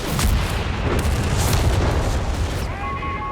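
Artillery fires in the real-time strategy game Company of Heroes 3, with heavy booming blasts and dense rumbling battle noise, followed by a brief tonal game effect at the end.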